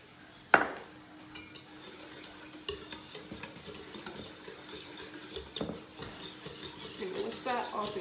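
A wire whisk beats pumpkin roll batter by hand after baking powder goes in. There is a sharp clink at the start, then quick, continuous scraping and tapping against the bowl that grows busier toward the end.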